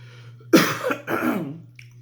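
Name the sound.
coughing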